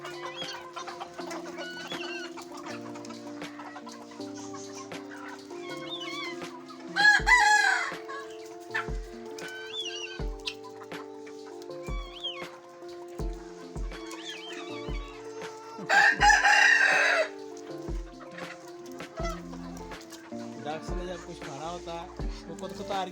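Hens cluck steadily throughout, with a rooster crowing loudly twice, at about seven and sixteen seconds, in a farm setting; a voice is heard faintly in the background.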